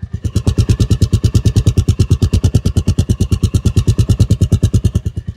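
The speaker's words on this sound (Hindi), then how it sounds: "ये देखो आवाज़ सुन लो, बिना रेव के एक बार आवाज़ सुन लो।" A Royal Enfield Meteor 350 single-cylinder motorcycle idles close by without revving, giving a steady, evenly pulsing thump at a constant pace throughout.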